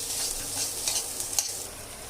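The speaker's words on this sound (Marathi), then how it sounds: "हे बघा, पाक उकळते।" Sugar syrup for moong dal barfi bubbling in a pan on the stove, a soft steady simmering hiss with a few small pops and clicks, close by and fairly quiet.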